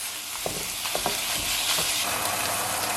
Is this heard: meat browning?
yes